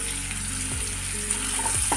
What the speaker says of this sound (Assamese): পুনৰ খুব ভালদৰে এই পিঁয়াজ আৰু আদা নহৰুখিনি ভাজি ল'ম।